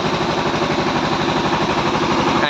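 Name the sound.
generator running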